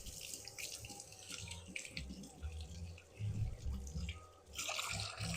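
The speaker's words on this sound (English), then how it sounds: "Wash your hands." Kitchen tap running steadily while hands are washed during cookie baking, a close, continuous hiss and splash of water with a voice speaking over it.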